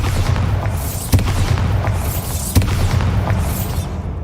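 Spell explosion from Bombarda cast in Hogwarts Legacy: a steady roaring rumble with two sharp booming hits, one midway and one later, over continuous low game ambience.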